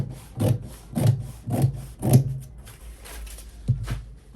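Scissors cutting through Ankara fabric for a dress, a series of four rhythmic snipping strokes, a pause, then one more, close and fairly clear with no talking.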